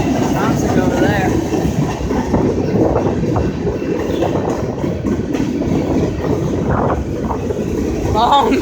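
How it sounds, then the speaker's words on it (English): A long BNSF manifest freight train with four lead locomotives rumbles past close by, wheels clattering steadily over the rails in a loud, continuous roar, with a person talking over it. "This good old long train. Very long."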